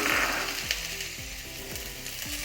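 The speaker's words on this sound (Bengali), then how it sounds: "সেগুলোকে ভালো করে ভেজে নেব" Carrots and capsicum fry in a pan for a cauliflower stir-fry, a continuous close sizzle with rhythmic scraping strokes from stirring every half second or so, with no speech.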